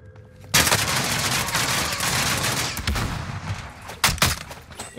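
Rapid automatic gunfire from Modern Warfare Warzone, loud and close, with sharp bursts and single heavy shots repeating over about five seconds and no talk.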